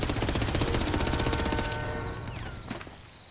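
Rapid automatic gunfire with incendiary rounds in GTA V rattles in a dense, steady burst for under two seconds, then cuts off, leaving a short fading tail and a faint click.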